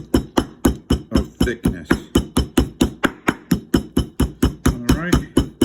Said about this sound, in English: I have a little meat mallet here, so it takes forever with this little thing